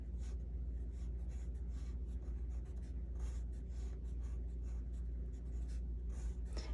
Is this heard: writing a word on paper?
yes